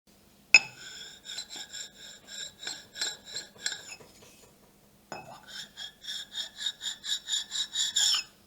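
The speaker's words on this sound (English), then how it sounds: "I want to put the chamfer on the Granite so I know the insert is lower." Chamfering the edge of a granite CNC gantry with a carbide insert tool gives repeated scraping, rasping strokes with a metallic ring, a short pause partway, then another run of rhythmic passes close by.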